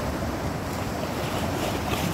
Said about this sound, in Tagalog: Yan! Yung alon.